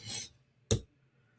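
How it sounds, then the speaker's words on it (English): Sharpening strokes along the blunted tip of a Spyderco knife, two short raspy scrapes about half a second apart, the second briefer and sharper, quiet and close with no voices. "So I'm doing perpendicular strokes to the edge without rolling off the tip."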